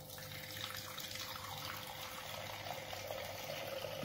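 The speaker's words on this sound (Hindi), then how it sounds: "अब इसके ऊपर ये दूध इस तरह से डालें," Milk is poured slowly into a clay pot, giving a faint, steady liquid trickle that runs continuously without a break and with no talking.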